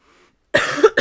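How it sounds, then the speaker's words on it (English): A single close, loud cough from a person in a dark wooded setting, two harsh bursts after a moment of near silence, alone without talk. "And that was a real cough."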